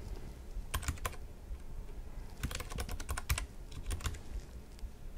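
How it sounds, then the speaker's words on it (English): Keys tapped on a computer keyboard while entering a command into a Proxmox VE shell, in short irregular bursts of clicks at close range with no talking. "And then we'll type in the command."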